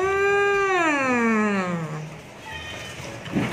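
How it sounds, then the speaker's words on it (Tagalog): A cat lets out a long, loud meow close by, its pitch sliding down as it fades, followed by quieter background sounds. "May pusa din pala dyan."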